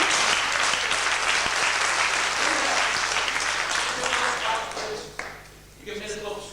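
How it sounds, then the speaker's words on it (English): Audience at a magicians' club show in Manchester breaks into sustained, dense applause that fades near the end as a voice returns briefly. "Give it a big clap."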